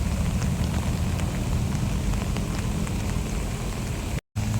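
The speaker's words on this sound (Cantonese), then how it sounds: "無端端就落雨，搞到呢我哋而家要走啦。" A sudden downpour falls outdoors at a water mosque beside a small lake, a dense, steady hiss of rain with scattered drop taps, heard without talk.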